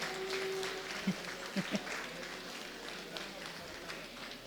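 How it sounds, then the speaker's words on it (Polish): Audience applause at an award ceremony honoring a Gloria Artis recipient, a soft, diffuse patter of clapping from a room of people, with a few louder knocks and a brief tone at the start. "Oklaski poproszę."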